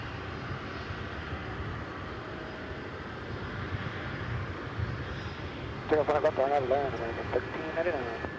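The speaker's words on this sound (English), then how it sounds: "And meanwhile, we'll just take a peek, just give you kind of a preview of that, an MD-11." An MD-11 airliner at DFW Airport at night: a steady broadband engine rumble throughout, with people talking over it during the second half.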